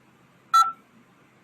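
A single short telephone keypad DTMF tone on an automated phone menu, loud and clear against near silence.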